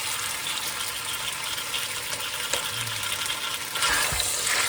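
Chicken sizzles steadily in hot ghee in a pan, a constant crackling hiss that swells a little louder near the end.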